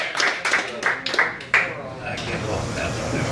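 Several sharp, separate claps from a stand-up comedy audience land in quick succession, then fade into a low room murmur as the crowd settles.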